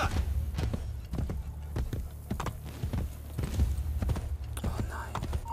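Horse hooves clip-clopping at a walk in the Assassin's Creed Brotherhood video game, a steady close rhythm of soft thuds with quiet talk over it.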